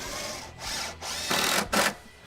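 A power drill drives 2.5-inch screws into floor joists in bursts, with motor whine rising and pausing between screws, loud and close with no talk.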